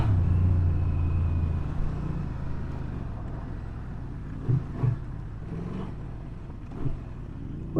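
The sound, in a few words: Honda Transalp 750 motorcycle accelerating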